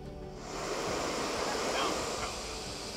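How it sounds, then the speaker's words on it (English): A camping gas stove at a carp-fishing lake gives off a loud, steady hiss that holds for a few seconds, with outdoor wind noise around it. "Can you hear this gas? Loud."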